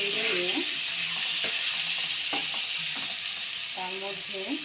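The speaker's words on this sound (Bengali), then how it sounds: "আমি এখানে টমেটো কুচিগুলোকে দিয়ে দেবো। আর টমেটো কুচিগুলোকে একটু নেড়ে নিয়ে" Chopped tomatoes stir-frying with potatoes in a pan for Bengali-style rui fish curry, a steady sizzle broken by short scraping stirs, close and clear, with a voice speaking briefly.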